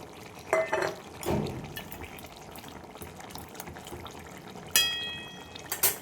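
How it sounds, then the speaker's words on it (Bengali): Small puti fish tumble into a pot of boiled potatoes for a spice-free chorchori, giving a couple of soft wet splashes and plops amid quiet kitchen clatter, with a brief watery burst near the end. "এবার আমি পুঁটি মাছগুলো দিয়ে দেবো"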